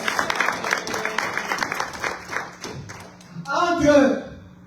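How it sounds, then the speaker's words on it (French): A church congregation claps in steady applause, a dense crowd patter that fades out as a preacher's voice comes back in over the room. "Est-ce qu'on peut acclamer pour le roi des rois?"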